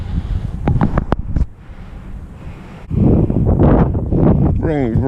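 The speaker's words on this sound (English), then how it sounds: "A little windy out here." Gusty wind buffets the microphone outdoors in Hershey, Pennsylvania, in rough, low rumbling bursts, with a few brief clicks and a short high squeak near the end.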